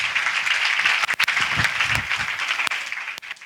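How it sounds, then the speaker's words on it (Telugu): Loud, sustained applause from a crowd fills the whole stretch, with a few sharper claps poking through, at the consecration of a new Our Lady of Lourdes church in Chintalapudi parish, Eluru diocese. "గట్టిగా చప్పట్లు కొడదాం"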